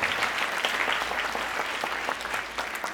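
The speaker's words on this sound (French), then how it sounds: "À présent, applaudissons les gradués, les coiffés, les prises d'habits." Audience applauding graduates at a university paramedical graduation ceremony, a dense, steady clapping from a large crowd filling the whole stretch at an even loudness.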